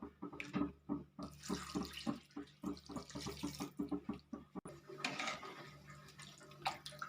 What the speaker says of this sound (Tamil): இப்போ நம்ம தேவையான அளவு தண்ணி ஊற்றிக்கலாம்